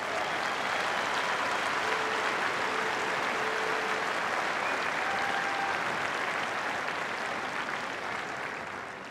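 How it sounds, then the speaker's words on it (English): Sustained applause from the crowd at the Australian Open honouring a group of inspirational women, a thick continuous wash of clapping that holds steady throughout and eases slightly toward the end. "Keep that round of applause going for all of our inspirational women that are here today"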